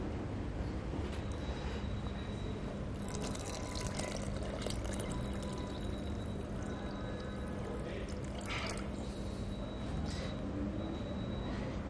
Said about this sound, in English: I'm just going to ask my assistant to get us some water, and we can then bring the water to the top level.